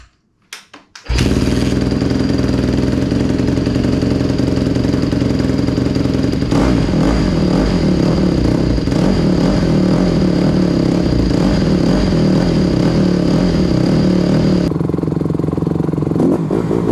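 A Honda CRF150R dirt bike engine, running after an engine swap, fires up after a few clicks and settles into a loud, steady, close-range idle with a raspy, rattling exhaust that holds for about fifteen seconds before dropping off slightly.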